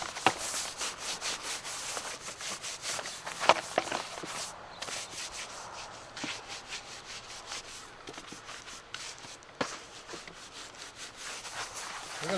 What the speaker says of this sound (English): a bit of your glycerin-based saddle soap. Don't be afraid to scrub it.